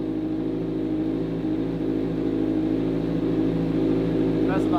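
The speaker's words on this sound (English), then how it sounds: "let's try to see how this sounds with the new mufflers on" A Kawasaki Z1000R motorcycle with new aftermarket mufflers idles with a steady, throbbing exhaust rumble and a slight rise in revs, with a faint sharp sound near the end.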